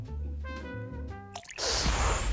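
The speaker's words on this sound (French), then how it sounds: "Ça part vite, ça coule super vite l'eau." Water poured into a glass of pastis, a brief gurgling trickle of rising drips that ends in a fuller splashing rush, close and quiet.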